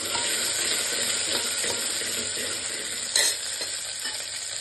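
Mustard seeds, a small onion and a head of garlic fry in hot oil in a pan for a village-style mixed vegetable curry, with a steady close sizzle, light stirring and a brief louder crackle.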